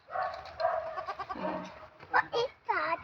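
A goat bleats several times in short wavering cries close by, mixed with people talking in the background outdoors.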